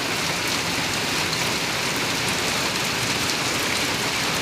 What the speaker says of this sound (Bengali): প্রচুর বৃষ্টি হচ্ছে আমাদের এখানে।